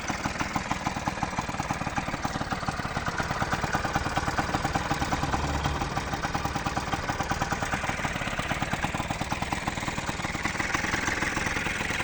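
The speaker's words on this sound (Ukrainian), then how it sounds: "Ось такий симпатичний скутерок." A cold Honda scooter engine idles steadily, a close, even mid-pitched putter with a fast regular pulse and no voices.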